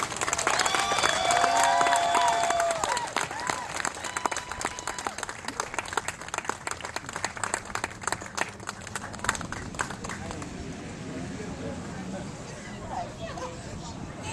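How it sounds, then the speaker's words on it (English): Applause honours the Outstanding Senior Volunteer at a Pride of Mower County award presentation. Many hands clap in a dense, sustained spatter that slowly thins toward the end, with a murmur of crowd voices and some talk mixed in. "A warm round of applause, if you would."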